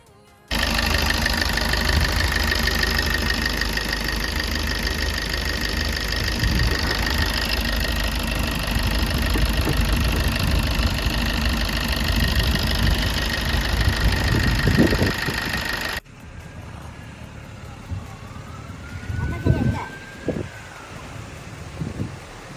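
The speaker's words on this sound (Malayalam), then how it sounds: "വാഹനം സ്റ്റാർട്ട് ചെയ്തു വാഹനം സ്റ്റാർട്ടായിട്ടോ" A Maruti Swift car engine, which has been cutting out while driving, runs at a steady loud idle with a constant hum for about sixteen seconds, then drops to quieter background with a few faint knocks and clatters.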